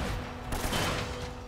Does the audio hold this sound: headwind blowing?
no